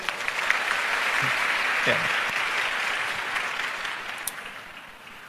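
An audience gives a round of applause for a university rector during a Ramadan religious talk in Indonesia, steady clapping that gradually fades, with a brief spoken word near the start.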